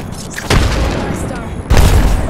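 A frag grenade explosion in a battle royale video game, two heavy booming blasts about a second apart under game audio, with a voice speaking near the start.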